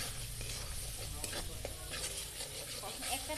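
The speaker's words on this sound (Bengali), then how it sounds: "দেখেন বন্ধুরা আমি মশলাটা ভেজে নিলাম।" Spice masala, thickened with a cashew and melon-seed paste, fries in a pan with a continuous close sizzle and soft stirring scrapes throughout.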